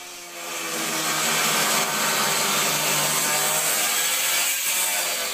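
Large and small angle grinders cut through the steel wall of a shipping container, a loud, steady abrasive whine that holds close and continuous for the whole stretch.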